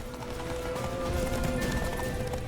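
Horse hooves clip-clop at a gallop in The Witcher 3, a steady rapid beat over a busy game backdrop at moderate level.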